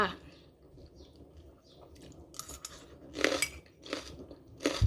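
Someone chewing sour fruit up close, with a few moist, crunchy bites that grow louder in bursts toward the end over a quiet background, with no talking.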